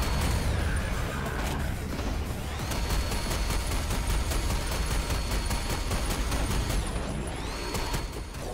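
Sustained rapid chain gun fire in a video game, a dense unbroken stream of shots running loud and close for the whole stretch with no talk over it.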